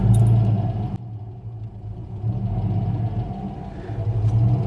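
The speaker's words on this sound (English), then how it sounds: "Nice beefy engine." A Ford Capri 2.8 Injection idles with a deep, steady engine rumble heard close up from inside the car, with a brief click and a dip in level early on.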